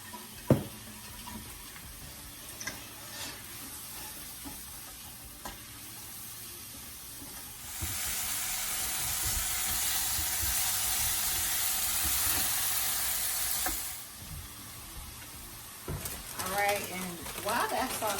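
Mushrooms seasoned with pink salt sauté in a hot pan, a steady broad sizzle swelling up partway through and holding for several seconds before fading, with quieter kitchen handling sounds around it.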